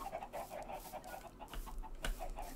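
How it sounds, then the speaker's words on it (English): A chicken clucking in Minecraft, a run of short repeated clucks at a steady rhythm, fairly close and clear, with a sharper click near the end. "Oh, a chicken."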